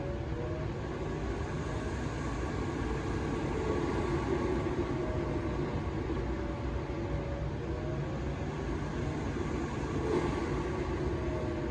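A ventilation fan built into a custom workbench runs flat out, giving a steady, even broadband whoosh with a low hum that holds at constant loudness throughout, with no voices.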